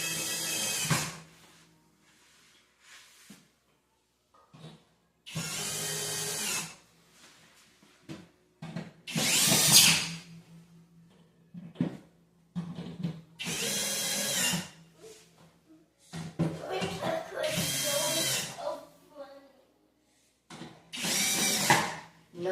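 A power tool tightens bolts while assembling a drink and coffee bar, in short whirring bursts of a few seconds each, separated by quiet gaps and light handling noises.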